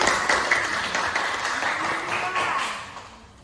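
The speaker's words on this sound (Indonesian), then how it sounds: "tepuk tangan untuk semua." Classroom applause as students clap their hands together, a dense patter of clapping that holds steady and then fades toward the end, with some voices underneath.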